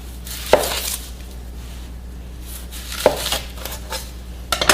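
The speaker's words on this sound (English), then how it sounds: "I'm going to cut the end and the top of the onion off" Two crisp knife strokes on a cutting board, each trimming an end off an onion, close and distinct with a quiet pause between, then light handling clatter.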